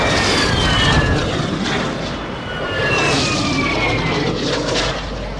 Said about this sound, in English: Our UAV is orbiting the area.